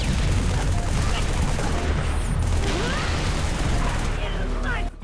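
Dense, continuous gunfire and turret fire in a Halo battle on the highest difficulty, with grenades and tanks in the fight, a loud, unbroken wash of shots and explosions close up.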